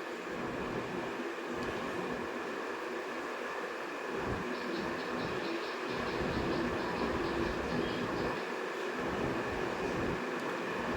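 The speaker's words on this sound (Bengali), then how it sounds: "এটা ধামতে রেলগেট, ট্রেন যাচ্ছে," A train rolls past a railway level crossing in Dhamta, a steady loud rumble with wheel rattle sustained throughout, and a faint voice briefly audible in the background.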